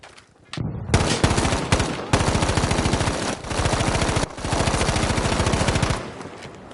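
A carbine fires in sustained rapid bursts during a competitive video game match, a loud rattling stream of shots broken by brief gaps.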